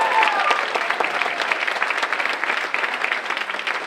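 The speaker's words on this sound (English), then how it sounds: "Please round of applause for Ms. Casey Valley." A school audience applauds at a high school senior awards night, sustained dense clapping from many hands that holds steady and loud for a few seconds, with no voices over it.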